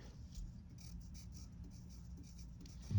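A pencil shades steadily on paper in a classroom lab exercise, soft scratchy strokes repeating in quick bursts, quiet and close.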